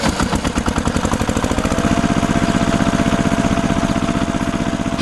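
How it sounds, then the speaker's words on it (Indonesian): A red tractor engine pulling a trailer in an animation, with a loud, steady, chugging mid-pitched engine rumble that pulses rapidly and evenly throughout. "Traktor merah sedang menarik trailer yang serupa."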